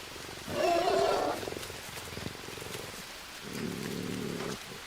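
A puma in the jungle survival game Green Hell gives a low, rumbling growl, a loud throaty burst early on followed by a quieter, sustained snarl later, over faint ambient background.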